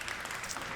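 Audience applause at an Unreal Engine user group event at SIGGRAPH: a short, steady wash of clapping from many hands, heard alone without talk.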